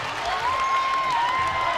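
A basketball crowd on the Murrieta Mesa side cheers and claps after an alley-oop in a CIF Southern Section high school playoff game, a steady wash of applause with a sustained whistle running through it.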